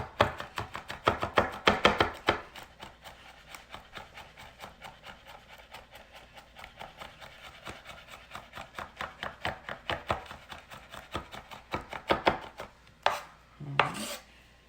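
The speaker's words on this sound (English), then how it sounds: "Keep the blade going and rock, rock, rock, rock, rock." A knife rock-chops garlic on a cutting board in a fast, even run of crisp taps that bunch into louder bursts near the start and end, close and clear with no speech.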